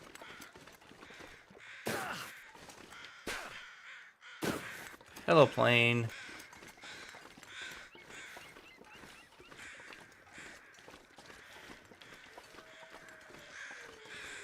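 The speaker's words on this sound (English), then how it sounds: "I hear a lot of crows." Crows caw repeatedly in a cold, wintry survival game world, bursts of calls rising at intervals over a steady ambient wash, with occasional footsteps or movement sounds; someone talks over them throughout.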